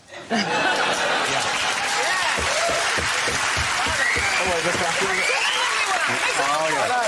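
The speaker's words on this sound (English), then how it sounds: "You're ha-ha-ha and clapping now, you're never getting home" Studio audience applauding and laughing at a comedy panel show, steady dense clapping throughout under a speaking voice.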